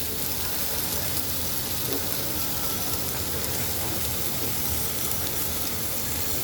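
Boiled taro stolons dropped into a hot pan with spices for a hilsa-head curry, giving a steady, even sizzle and hiss that carries unbroken from start to end, with no talking.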